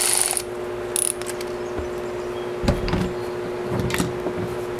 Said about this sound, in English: I'm using an electric ratchet on that